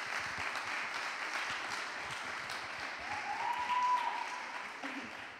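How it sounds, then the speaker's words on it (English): An audience at a coding bootcamp demo day in Lisbon gives a round of applause for the graduating students, moderately loud and steady, with a brief whistle-like tone rising near the end. "let's just give them another round of applause"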